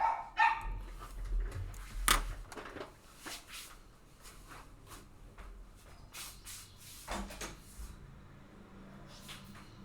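Dogs bark at home in short, irregular bursts, close and fairly loud at first, then scattered and quieter, mixed with some household clatter.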